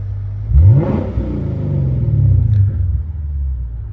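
A 2023 Lexus IS500 engine revs up sharply, then settles into a deep, throaty exhaust rumble that swells again before easing off, close and loud.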